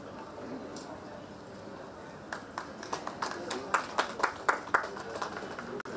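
Audience at a Kannada poetry reading at a literary festival breaking into applause: scattered claps grow into a short burst of clapping that builds and then fades, over a quiet room.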